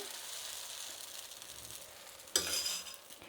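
Dosa batter sizzles on a hot griddle pan, a steady faint crackle that swells louder near the end as fresh batter hits the surface, with light utensil scraping.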